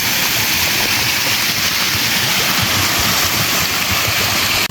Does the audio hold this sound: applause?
no